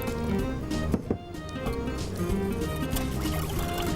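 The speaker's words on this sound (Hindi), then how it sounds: "थोड़ा पानी और डालूंगी मैं।" Water is poured in a small amount into a dahi mixture for dahi phulki in a kitchen, making a soft, close trickle with a few light splashes and clinks.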